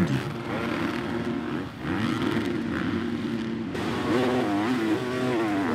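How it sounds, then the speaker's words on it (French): Several supercross motorcycles rev hard as they leave the starting gate at a French SX Tour race in Saint-Georges-de-Montaigu, a loud, continuous roar of engines climbing in pitch, with no talk over it. "La sortie de grille est bonne, mais Max se fait enfermer au premier virage"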